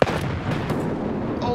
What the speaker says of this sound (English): I've got a nade to toss at him.